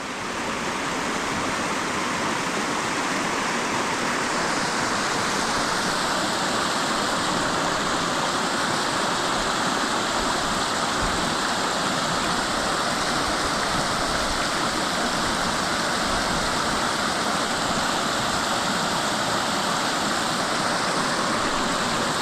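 A continuous rushing of water fills the scene, a steady broadband hiss of a flowing mountain creek close by in the San Bernardino Mountains, with no voices.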